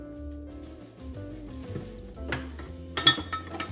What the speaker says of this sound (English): I'm just gonna use this spoon to get started with the milk